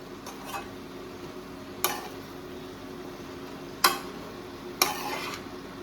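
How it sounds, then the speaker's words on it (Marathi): A spoon stirs large cauliflower pieces in a curry pan, with four distinct scraping clanks spaced a second or two apart over a soft, constant background sizzle, close by and without talk. "बरें आता मिक्स करून घेता."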